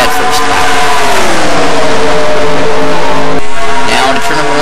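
An open-wheel race car engine roars steadily in a racing video game, loud and continuous, with pitch shifts as the car runs a lap. A commentator's voice is heard over it.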